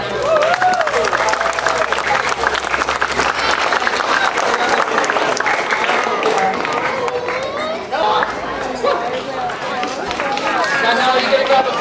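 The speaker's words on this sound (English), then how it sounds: "Can we give him a big round of applause?" Audience at a junior football club presentation day applauds a volunteer coach, a steady loud wash of clapping with crowd cheering and voices mixed in throughout.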